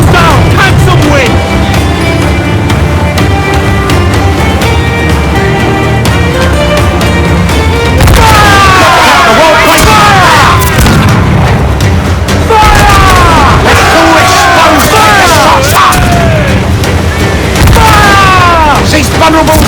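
Broadside cannon fire from a sailing warship in Assassin's Creed Black Flag, heavy booming volleys with crashing impacts over a swelling orchestral score, while voices shout orders between shots.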